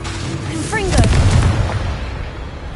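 Confringo spell explosion in a Hogwarts video game, a single loud, close boom that swells and rumbles before fading, with a voice speaking over it.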